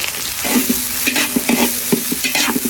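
Ginger, onion and garlic sautéing in hot cooking oil for a mussel dish, a loud steady sizzle close by, punctuated by repeated scraping and clinking strokes of a stirring utensil.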